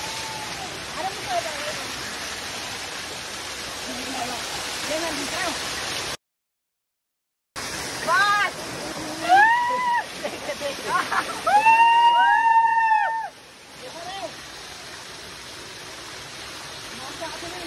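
Rainkhol waterfall at Sakti gives a steady broadband rush of falling water, close and constant, before a brief cut, after which voices talk loudly over the continuing flow.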